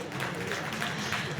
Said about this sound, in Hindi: अगर आप सहमत हैं तो तालियों से स्वागत करें।